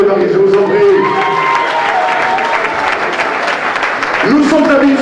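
Wedding guests applaud the newlyweds in a hall, a sustained wash of crowd clapping with a few cheers, partly overlaid by a person speaking.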